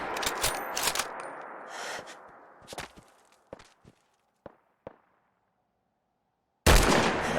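Rifle shots in Fallout 4 ring out as a few sharp, separated cracks amid bursts of louder in-game activity, with quiet gaps between them and a loud burst returning at the end.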